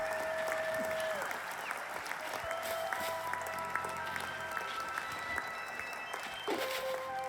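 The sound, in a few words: applause emote from a video game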